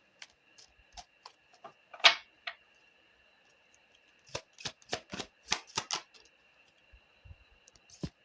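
Tarot cards being shuffled and handled, with a string of sharp, close riffles and snaps in irregular bursts separated by quiet gaps.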